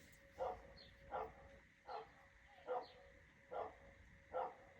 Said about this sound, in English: You hear that dog?